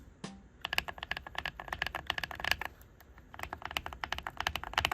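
Rapid, crisp keystrokes on a modded mechanical keyboard, heard close up in two quick typing bursts separated by a brief pause, with no voices.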